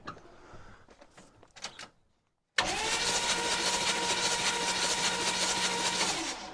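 A long-dead 6.2/6.5 diesel engine in an M1009 is cranked over: scattered clicks and knocks, a short pause, then the starter motor whirs steadily and loudly for several seconds.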